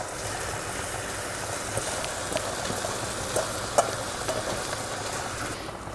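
Leek rings dropped into a reduced fettuccine sauce in a pan, giving a steady close sizzle and bubbling with a few small clicks and stirring sounds, no voices.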